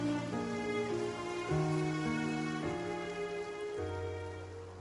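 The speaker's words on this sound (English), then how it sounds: "It rained for longer than I suspected." Rain falls steadily in the Genshin Impact video game, a soft continuous patter that sits beneath sustained musical tones for the whole stretch.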